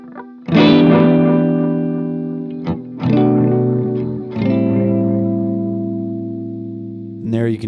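An electric guitar plays through a delay pedal, with sustained distorted chords whose repeats ring on and fade away between strums. Several struck chords each decay slowly, and a short burst of new playing comes at the end.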